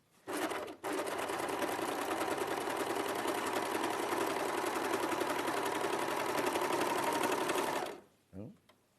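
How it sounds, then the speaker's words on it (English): An overlocker serging and trimming the edge of a wide fabric seam, a loud continuous fast whirring chatter that runs for about seven seconds after a short false start, then stops. "I'm going to overlock it together, and because it's quite a wide seam allowance, I'm going to cut off the excess"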